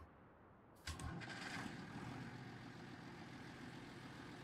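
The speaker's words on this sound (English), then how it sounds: "we'll hop in the tractor" A tractor engine in the Farming Simulator 19 video game cranks and catches, then settles into a steady low rumbling idle that continues evenly with no voices.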